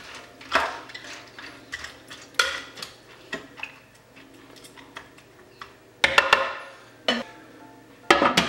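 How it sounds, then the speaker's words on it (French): Pasta and water stirred in a cooking pot for one-pot pasta: scattered clicks and scrapes of a utensil against the pot, with louder bursts of clattering near the end. "Et je remue un petit peu."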